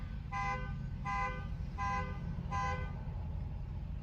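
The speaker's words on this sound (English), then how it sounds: "or like this car honk" Four short, evenly spaced car horn honks sound outside a parked car, each clear and fairly loud over a steady low rumble.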